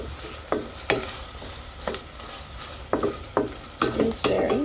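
Sugar with ginger and garlic stirred in a pan over low heat: a soft steady sizzle carries a string of sharp scrapes and taps from the utensil against the pan, roughly one per second, close by.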